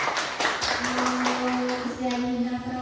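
Applause breaks out in a school meeting at an elementary school, a short burst of clapping from a group mixed with a voice and a held tone.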